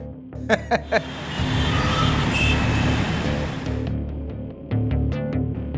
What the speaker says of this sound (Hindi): ये जब से मेट्रो का काम चालू हुआ है ना, इतना ट्रैफिक जाम लगता है